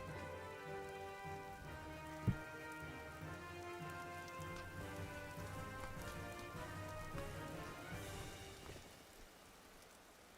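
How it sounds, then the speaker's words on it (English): Steady rain falls in the medieval survival game Vintage Story, a soft, even patter that carries on unbroken for the whole stretch, with one sharp knock partway through and the hiss thinning near the end. "Oh, it's raining."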